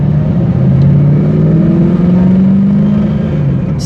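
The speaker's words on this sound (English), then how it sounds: "The car sounds amazing." A 2002 Chevrolet Camaro SS SLP V8 on a test drive, its engine holding a loud, steady low rumble with a slight rise and fall in pitch as the car cruises.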